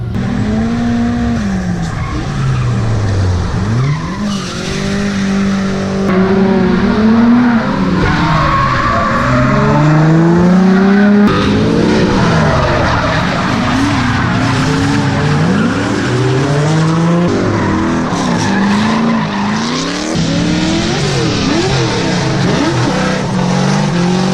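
Cars drifting at a Turk Bash event, engines revving hard with rising and falling pitch while tires squeal and skid almost continuously, loud and close throughout.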